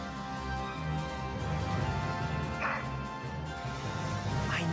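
Rags, a dog in Valkyria Chronicles 4, gives a few short barks over a stormy, rumbling game soundscape, with voices and a music-like drone running beneath.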